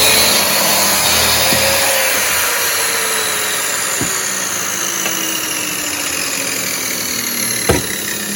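A saw shaves a thin sliver off the factory edge of a board while a custom window is being built. Its motor drones steadily and loudly at close range, with a slowly falling whine and a few faint knocks, and no talk.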